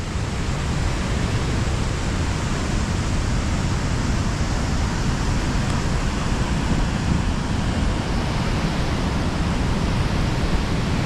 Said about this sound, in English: You hear the roar of the water though